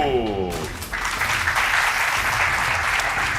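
A crowd bursts into steady applause, loud and sustained throughout, following a brief descending electronic tone at the start.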